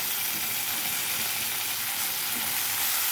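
Eggplant pieces hit a hot pan of oil and fry with a loud, continuous broadband sizzle, close and steady throughout with no voices.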